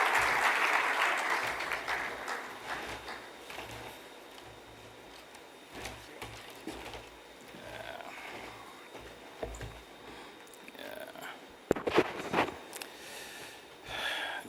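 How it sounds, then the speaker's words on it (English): An audience at an investment forum claps to welcome a speaker to the stage, strongest at first and then thinning, with scattered knocks and shuffling sounds near the end. "I just want to ask a warm round of applause for him to welcome him"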